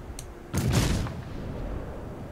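Naval artillery in the World of Warships game lets off a loud booming salvo after a faint earlier shot, the blast rolling into a fading rumble with no voices over it.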